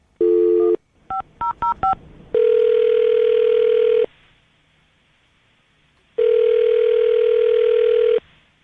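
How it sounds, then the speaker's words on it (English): A steady dial tone, then a quick series of touch-tone keypad beeps, followed by two long ringback tones separated by a pause of silence. "Dial the phone right now."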